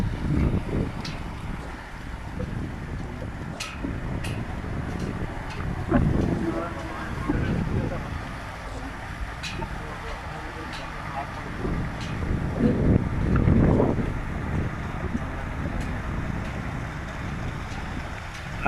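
A Challenger 5 car pushes through floodwater on a flooded road during heavy rain near Madina. Water splashing and engine noise run throughout beneath heavy wind buffeting on the microphone, with faint voices in the background.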